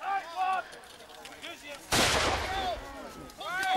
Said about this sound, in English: It looks as though the British are choosing to trade musket volleys with the French.